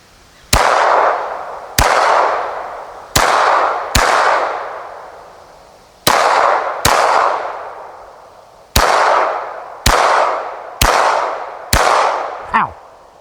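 A Beretta 92 FS pistol chambered in .22 LR fires about ten sharp, loud shots, spaced roughly a second or two apart in uneven groups, each followed by a short echoing decay outdoors.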